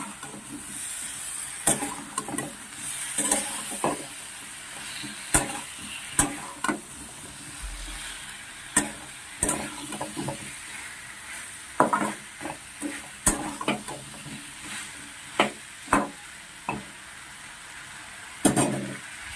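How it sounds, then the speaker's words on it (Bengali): Young jackfruit sautéed in a pan with cumin, salt, turmeric, dry red chili powder and coriander-cumin powder: a soft, low sizzle beneath intermittent sharp scrapes and clicks of a spatula stirring, with no talk. "সব কিছু দিয়ে মশলাপাতি দিয়ে এটাকে এবার আমি কষে নেব।"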